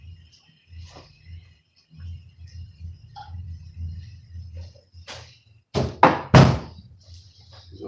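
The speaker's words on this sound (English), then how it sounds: "Close the door." A door swings shut indoors with a couple of loud, close thuds near the end, after quieter shuffling and background rumble.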